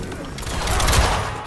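Rapid gunfire in the Mortal Kombat Ultimate fighting game on Xbox Series X, a dense, steady burst of shots and impacts holding at a fairly loud level for about a second and a half.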